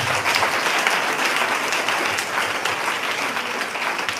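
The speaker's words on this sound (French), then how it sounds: "on peut acclamer pour le Seigneur Jésus" A church congregation gives loud, sustained applause for the Lord Jesus during a testimony service, dense clapping filling the room evenly without pause.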